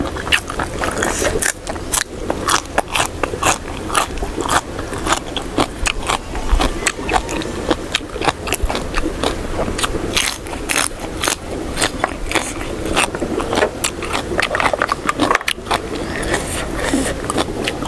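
Close, crisp crunching and crackling bites of blanched clams repeat steadily and densely throughout, with wet chewing texture and no talking.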